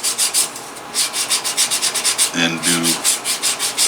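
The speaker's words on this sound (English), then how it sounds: "I need to do a nice final burnish all the way around here" Rhythmic rubbing strokes of burnishing and sanding along the edge of a leather IWB holster for a Hellcat pistol, close and steady, with a brief tonal squeak midway.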